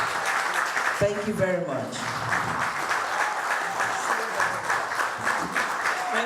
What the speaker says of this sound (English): Please keep clapping for her, don't stop.